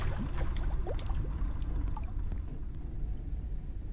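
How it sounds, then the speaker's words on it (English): Airship engines starting up in Forever Skies: a steady low rumbling drone with a watery, churning texture and a few faint clicks, continuous and moderately loud. "Let's turn our engines on."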